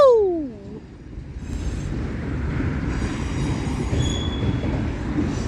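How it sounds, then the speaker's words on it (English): Union Pacific manifest freight train passing nearby, a falling horn blast at the start, then a rolling rumble of railcars with a faint wheel squeal. "There goes train number 1 of today in Metairie, Union Pacific Manifest"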